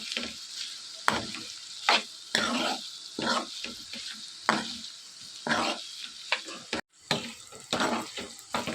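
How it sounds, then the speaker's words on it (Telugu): Chicken liver and onions stir-frying in a pan, with loud bursts of sizzling and repeated scraping strokes of a spatula. The hiss swells and drops with each stir, close up, with one brief silent gap. "ఇదంతా కూడా బాగా మిక్స్ చేసుకొని బాగా ఈ ఆనియన్స్తో ఈ లివర్ కూడా బాగా మగ్గనివ్వాలి"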